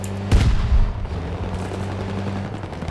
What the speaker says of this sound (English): I don't know why they made it sound like this. It does not sound like a shotgun.